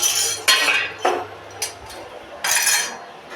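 A metal tawa griddle pan being washed, with several sharp metallic clanks and scrapes at irregular intervals, close and fairly loud, with no talking.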